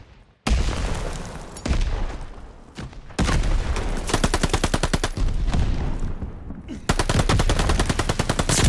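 Game gunfire from Call of Duty: Vanguard, played in search and destroy, sounds as loud, close bursts of rapid automatic fire with booming shots. The bursts come in several waves with brief gaps between them.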